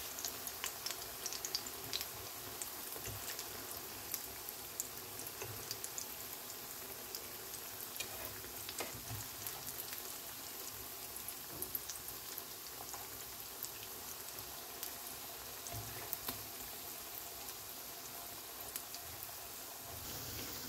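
Maakouda, Fez-style potato fritters, frying in hot oil in a pan, giving a steady, soft crackling sizzle that continues without a break, with no talk over it.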